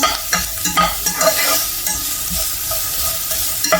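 Sliced onion frying in a small amount of oil in a pan, with a spoon stirring it: a close, crackling sizzle broken by repeated scraping and clinking strokes, with no voices.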